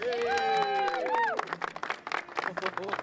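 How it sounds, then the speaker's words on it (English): Crowd applause breaks out at a UK front-wheel-drive drag racing series finale, dense clapping rising after a brief stretch of amplified voice and tone, with cheers mixed in. "Big round of applause, Philip Reeves"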